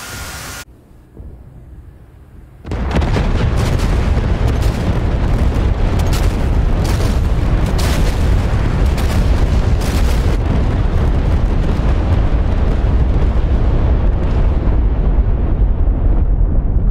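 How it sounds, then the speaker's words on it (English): Bombs burst on an airfield in a WWII air combat video game: after a quiet start, a sudden massive blast opens into a sustained, heavy roar of explosions with sharp cracks throughout, loud and close, slowly fading. "Oh, the bombs are dropping on the airfield."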